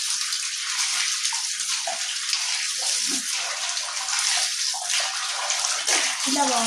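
Water runs steadily from a tap while someone washes in a bathroom, a continuous close splashing hiss with brief sloshes as hands move through the stream.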